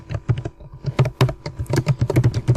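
Fast typing on a computer keyboard while writing Python code, a dense, close string of crisp key clicks with irregular bursts and brief pauses.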